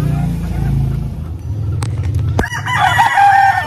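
Gamecock stags and cockerels crow loudly at feeding time, several overlapping calls close by, with clucking, a sharp knock and a vehicle passing in the background.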